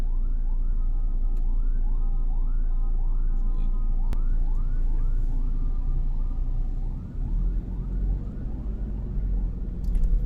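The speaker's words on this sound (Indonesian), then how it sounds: "Ada sebuah ambulans yang kelihatannya, kalau menurut bunyi sirine dan apanya, ada membawa pasien gawat darurat." A wailing ambulance siren cycles up and down repeatedly, steady and fairly close, over a low rumble of city traffic in Medan.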